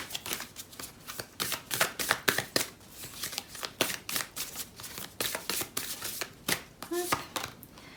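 Oracle cards riffled and shuffled in rapid, crisp bursts, close and fairly quiet, repeating steadily throughout.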